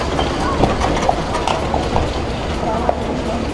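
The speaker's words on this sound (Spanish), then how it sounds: "lo que son los caballos con sus carretones turísticos" Horses pulling tourist carriages through the streets of Palma, Mallorca clip-clop with light, irregular hoof taps over a steady outdoor street hum, while people talk nearby.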